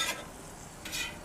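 Potatoes and ham on a Camp Chef flat top griddle outdoors. Two short bursts of scraping and stirring stand over a faint, steady sizzle.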